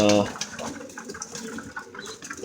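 Soft, low cooing from young pigeons in a loft murmurs through a busy, cluttered background, with a brief louder coo at the start and muffled voices nearby.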